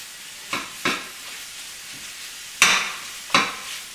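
Sausage browning in a pan for sausage gravy, with a soft steady sizzle and four sharp scraping strokes of a utensil stirring the meat, the last two loudest and close by.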